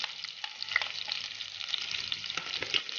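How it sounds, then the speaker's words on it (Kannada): Mustard seeds, cumin, sesame seeds, curry leaves, garlic and asafoetida fry in hot oil for tempering. The sizzle is dense and constant, with close, crisp crackles and pops scattered throughout. "ಈಗ ಸ್ವಲ್ಪ ಫ್ರೈ ಮಾಡ್ಕೊಳ್ಳೋಣ."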